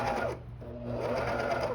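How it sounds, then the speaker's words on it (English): A coverstitch machine with a binder attachment sews binding onto a romper at slow speed, making a steady mechanical hum with a short dip in the middle before it picks back up, close by and fairly quiet. "I'm gonna sew slow"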